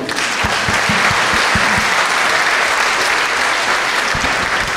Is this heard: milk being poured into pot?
no